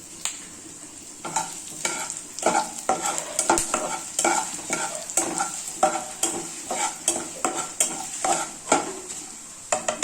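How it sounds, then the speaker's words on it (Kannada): Urad dal and coriander seeds are dry-fried and stirred in a pan for a wedding-style rasam, a close, rhythmic series of scraping stirs over a soft sizzle, repeating roughly every half second with no talking. "ಎರಡು ಸ್ಪೂನ್ ಧನಿಯಾನ ಹಾಕ್ಕೊಂಡು ನೀಟಾಗಿ ಫ್ರೈ ಮಾಡ್ಕೊಳ್ಳೋಣ"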